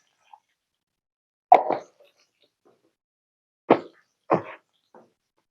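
Mustard seeds for tempering pop in hot oil left over from frying, a few separate sharp pops and splutters spaced irregularly in near silence.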